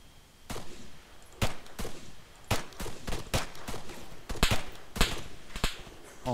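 Gunfire in ARMA 3 rings out as sharp, loud reports, single shots and short bursts spaced irregularly over a quiet background.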